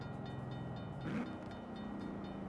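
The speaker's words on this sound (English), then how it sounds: "Train's coming." A train in the racing video game Forza Horizon 4 rumbles past with a steady low drone and a rising tone swelling in the middle, continuous and fairly close, with no talking.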